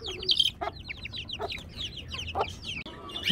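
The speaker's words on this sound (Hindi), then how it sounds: "पाँचों चूज़े ठीक हैं और काफ़ी बड़े हो चुके हैं" Hens cluck and chirp continuously alongside five growing chicks, busy overlapping fowl calls at close range with no talking.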